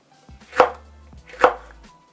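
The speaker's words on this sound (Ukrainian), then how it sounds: "І тепер ось так дрібненько нарізаємо." A knife finely chopping bell pepper on a cutting board, for Chinese sweet-and-sour pork, gives two sharp, close chops roughly a second apart, with a quiet pause between them.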